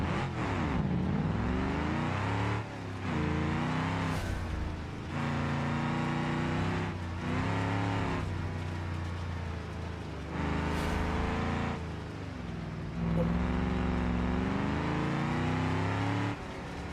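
A truck engine drones steadily in the driving simulation game BeamNG.drive, loud and continuous with repeated rises and dips in pitch as it revs up, shifts and pulls again.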